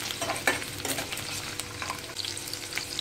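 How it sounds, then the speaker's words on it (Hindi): Garlic, ginger and green chillies frying in hot oil in a home kitchen, a soft steady sizzle with occasional stirring scrapes, fairly quiet and free of talk. "अब हम इसमें डालेंगे लहसुन, अदरक, हरी मिर्च और इन सबको थोड़ा सा हम भून लेते हैं।"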